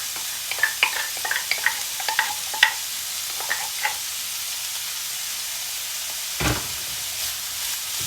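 Chili stir-fried in a pan for a bamboo shoot and pork belly curry with oyster mushrooms: soft steady sizzling with repeated scraping stirs of a utensil, plus a brief louder hiss later on.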